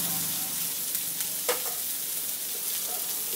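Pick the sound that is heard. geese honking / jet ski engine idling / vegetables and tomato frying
vegetables and tomato frying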